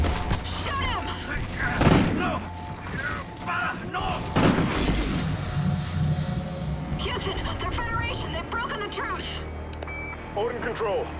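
Call of Duty Ghosts gunfire in a chaotic firefight, with dense crackling shots and booming impacts mixed under urgent shouted game dialogue and electronic beeps throughout.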